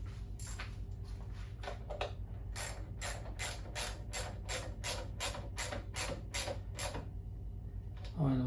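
Ratchet wrench tightening the petcock on a 1997 Harley-Davidson Heritage Classic: a soft background hum first, then a steady run of crisp, evenly spaced clicks, faint and close.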